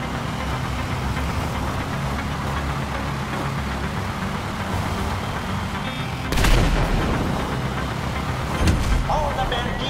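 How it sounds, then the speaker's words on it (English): A gun tower firing in Grand Theft Auto V, two heavy booms standing out over a constant rumbling engine-like background din. "Looks like the gun tower is fired up."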